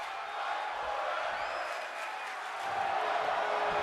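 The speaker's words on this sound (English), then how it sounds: "As this capacity crowd comes unglued" A packed virtual arena crowd roars in WWE 2K24 during a Cruiserweight Classic match, a steady wash of cheering and whoops that swells slightly toward the end.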